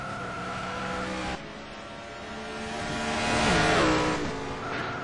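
Race cars in an ETC Black Cup 2008 round at Hockenheim, approaching the hairpin. Engines whine at moderate distance, with shifting tones and a rising, then falling swell as a car passes closer.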